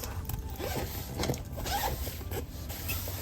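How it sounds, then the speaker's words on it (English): A packing cube's zipper is pulled open in a cruise ship cabin, producing a continuous close zipping rasp that runs through the whole moment with faint handling noise and no talking. "Unzip."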